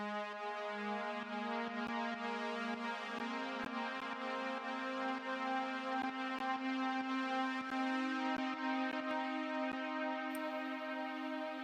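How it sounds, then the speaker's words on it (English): Free OBXD synthesizer playing a sustained lead of layered saw waves with the filter open, washed in a very long reverb; a steady, bright, continuous tone held alone throughout with rich harmonics and no voices. "So that is a sound that is being fed into a really long reverb, and it's just some saws and the filters open."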